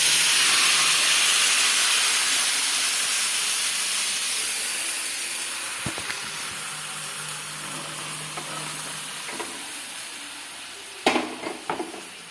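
Hot mustard-seed tempering poured into a pot of curry, an intense loud sizzle bursting at first and slowly dying away, with a few spoon or pan knocks later on.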